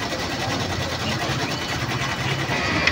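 A DTF printer runs its head clean cycle, a continuous loud mechanical whirring and buzzing hum with steady pump-like noise throughout, close by.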